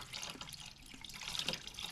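Gasoline poured from a container and spilling during a junkyard LS engine teardown, heard as a faint, steady trickle and splash of liquid throughout.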